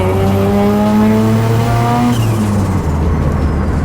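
A classic 1980s Ford fitted with a Mazda turbo rotary engine accelerates onto a dual carriageway, its engine note climbing steadily through a gear, then changing pitch and pulling again, loud and close from inside the car.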